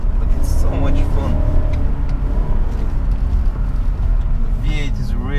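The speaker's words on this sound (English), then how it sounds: "The V8 is really responsive with a long range and power." A BMW 745i E65's V8 engine pulls hard through aggressive city driving, heard from the passenger seat as a loud, steady drone that holds throughout, with a sweeping rise in pitch near the end.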